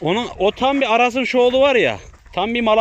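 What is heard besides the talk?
No everyday noise stands out behind the speech.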